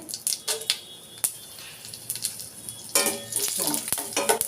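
Mustard seeds, cumin and dried chilies crackling and popping in hot oil in a steel pan with a soft sizzle, punctuated by clinks of a utensil stirring against the pan.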